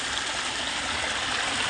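Water current rushing through a growing hole, a steady broadband gushing flow, close and constant for the whole short stretch with no talking.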